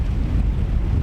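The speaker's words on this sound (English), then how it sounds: "it's so windy here" Strong wind at high tide on the coast at Kildonan, Isle of Arran, buffets the microphone in a continuous low roar, loud and close, with no other sounds standing out.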